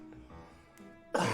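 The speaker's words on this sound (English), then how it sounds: "I'm gonna fucking cough" A single harsh cough bursts out loud and close at the end, after a quiet stretch of low murmuring background.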